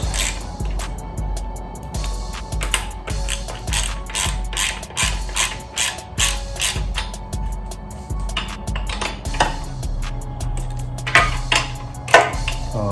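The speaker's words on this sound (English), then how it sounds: "go back in with your ratchet and your 13mm" A ratchet with a 13mm socket cranks exhaust bolts on a Coleman CC100X mini bike, giving close, loud, fast clicking strokes in repeated bursts with brief pauses throughout, and no voices.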